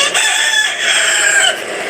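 A rooster crows loudly and close in a drawn-out, sustained call that fills the brief moment on its own, with no talking over it.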